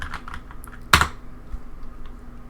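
Typing on a computer keyboard: a few soft, quick key taps with one sharp louder clack near the start, close and quiet, no talking.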